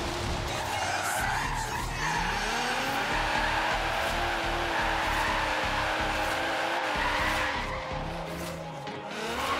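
A Nissan GT-R R35 with rear-wheel drive drifting in Forza Horizon 3: sustained loud tire squeal and skid over a revving engine that rises and shifts through the corner, continuous for several seconds before easing off.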